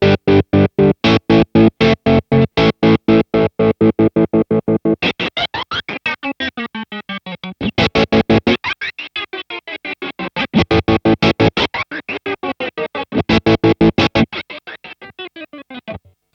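Electric guitar played through an MXR tremolo pedal set to square wave, its choppy tremolo stuttering chords and single notes into rapid, evenly spaced bursts, shifting in pace, loud and upfront with no speech.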